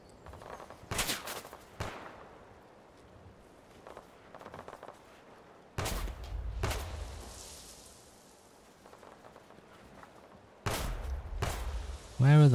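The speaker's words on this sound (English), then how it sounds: "Where are those shots coming from?" Bursts of gunfire in a Fallout 4 match played with a Tarkov mod, coming in a few sharp clusters separated by quieter stretches, with distant-sounding shots in between.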